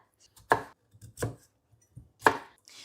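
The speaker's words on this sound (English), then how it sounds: "I am going to chop these up and then I'm going to put them in my boiling pan over there" A knife chops peeled sweet potatoes on a cutting board with three sharp thuds, each spaced roughly a second apart, heard up close with no talking.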